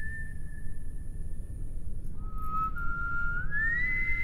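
A whistle from the horror game Remothered: Broken Porcelain holds one steady, clear tone, then slides and rises into a brighter, wavering pitch, all over a low, constant background rumble.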